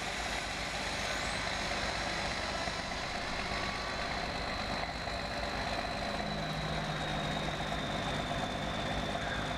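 A 1952 White truck being moved, heard as a low, steady engine idle with a constant hum and faint higher tones, continuous for the whole stretch with no talk.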